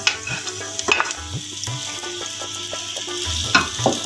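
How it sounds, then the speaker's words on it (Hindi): A spoon stirs dates slowly in a pan over low heat, giving a low steady sizzle with repeated soft scraping and clinking strokes, nearby and fairly quiet, no speech. "आहिस्ता आहिस्ता चम्मच चलाएंगे और हीट हम लो ही रखेंगे"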